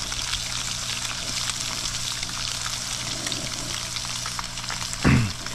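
Blackened redfish fries in a cast iron skillet with a steady, dense sizzle throughout, close and loud, and a brief low thump near the end.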